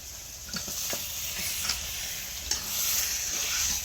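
Desi chicken meat goes into a pan of frying turmeric and chili masala, giving a continuous close sizzle with scattered stirring clicks and scrapes throughout.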